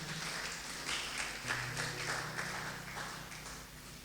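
A church congregation applauding after a scripture reading, a soft, fairly distant patter of clapping that swells and fades over a few seconds.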